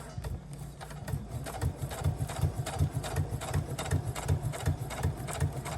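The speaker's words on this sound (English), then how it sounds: "Just going to do a very simple straight stitch." A sewing machine sews a simple straight stitch on a journal pocket, with a rapid, even mechanical chatter that runs steadily and close up with no speech.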